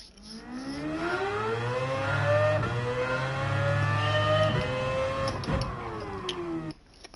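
A car in Gran Turismo 7 revs upward in long rising sweeps, drops pitch at each short-shifted gear change and climbs again, loud and close with no talk over it.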